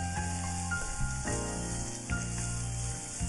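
Thin slices of pumpkin dropped into a hot pan crackle and sizzle up close, a dense bright hiss with small pops across a few seconds, no voices.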